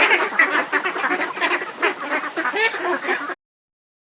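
Ducks quack and honk loudly and close while feeding on paddy, a busy overlapping chorus of calls that breaks off abruptly near the end.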